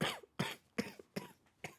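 A person coughs in a rapid run of five harsh, close bursts, each followed by a short gasping breath, with no talking.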